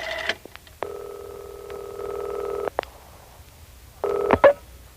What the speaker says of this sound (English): John is telephoning his friend George